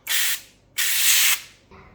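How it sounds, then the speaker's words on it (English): Two bursts of avocado oil aerosol spray into a pan, a short one then a longer hiss, close by, with a faint clink at the end. "spray it with a little avocado oil"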